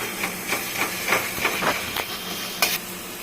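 Taro leaves cooking uncovered in a pan over raised heat for a Bengali vegetarian ghonto give off a steady steamy sizzling hiss, broken by a series of short crackling pops, with no voices.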